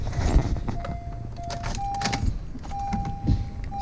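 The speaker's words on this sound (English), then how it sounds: "Keys." Keys for a Honda car jangling in short metallic bursts near the vehicle, close and fairly loud, with a brief electronic tone chiming in between the rattles.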